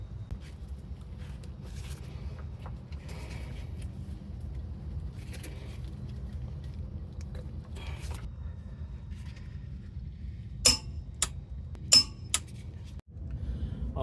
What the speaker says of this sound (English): let's tighten that bolt down